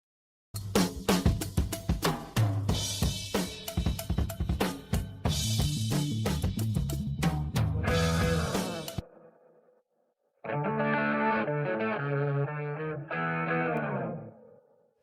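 Distorted rock music plays with drums and sung lines, then drops to silence before a softer echoing passage where reverb trails after the vocals.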